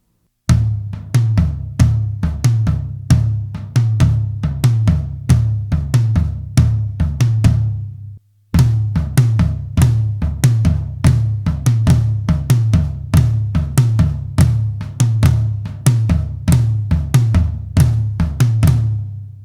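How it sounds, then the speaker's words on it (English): Tom-heavy drum groove on a kit, looped hits in a steady repeating pattern, played first plain and then with flams adding doubled strokes; loud, close, with a brief gap midway and no talking. "play this a couple times without the flam and then add the flam in"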